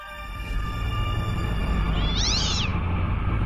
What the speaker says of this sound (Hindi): ऊपर से काली बिल्ली ने हमारा रास्ता काट दिया है।